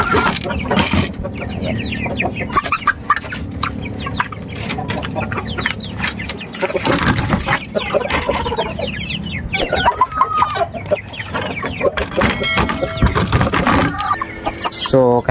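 Shamo gamecocks at an auction market in Basilan, dense overlapping clucking and crowing from several birds nearby, continuous and loud, with someone speaking briefly among them.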